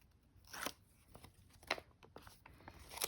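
Scissors trim paper for a small envelope journal, giving several quiet, crisp snips spaced irregularly across a soft, near-silent room background.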